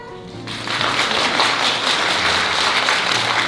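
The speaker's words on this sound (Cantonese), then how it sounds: "感謝大家嘅掌聲啦" Audience applause fills a hall at a music student concert, starting abruptly after a quiet half-second and continuing as steady, dense clapping to the end.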